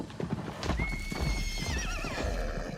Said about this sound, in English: a mode of transportation is gonna be a horse